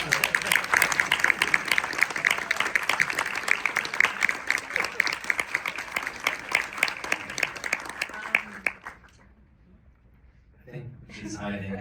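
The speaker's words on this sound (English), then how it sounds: "I feel like we should give her a huge round of applause" Audience at a film Q&A for "The Brutalist" giving a round of applause, close, crisp clapping for about nine seconds that stops abruptly, followed by silence and then a voice speaking.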